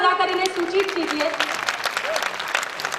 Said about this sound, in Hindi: एक बार तालियां बजाकर इन्हें सूचित कीजिए।